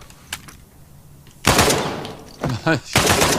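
Gunfire from the video game Uncharted 4: A Thief's End, with several loud bursts of shots, first one long burst, then a couple of short clustered volleys and another burst near the end, over a low game background.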